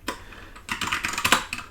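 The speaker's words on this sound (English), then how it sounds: "you can type in Python and then press enter to go into the Python environment" Keys on a computer keyboard clatter in a quick, uneven burst of close, crisp clicks, ending in firmer presses such as the enter key, with no talking.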